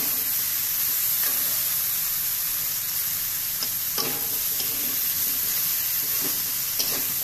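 Potatoes fry in a pan with a constant close sizzle and hiss. Occasional sharp taps and scrapes from stirring sound throughout, and no voices are heard.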